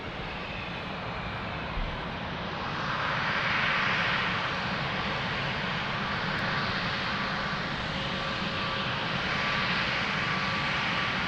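Aircraft engines roar steadily at Lisbon Airport during plane spotting, a continuous broad jet rumble that swells slightly midway, with no talk over it.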